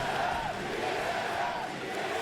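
A large esports crowd at the Apex Legends ALGS final roars and cheers in a sustained, loud wash of voices, filling the arena.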